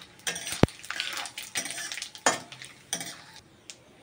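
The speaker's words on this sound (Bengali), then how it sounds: "এই দুইটাকে একটু ভাজতে ভাজতে আমি এখন দিয়ে দেবো 1 চামচ জিরে।" Cardamom, cinnamon and cumin frying in oil in a pan for a goat meat curry, a steady sizzle with repeated scraping stirs and one sharp clink of a metal spoon against the pan, close and without speech.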